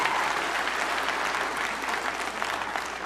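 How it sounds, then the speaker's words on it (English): A comedy club audience claps in a dense, even burst of applause that holds steady for a few seconds at a moderate distance, with no voices over it. "Please give them a big round of applause,"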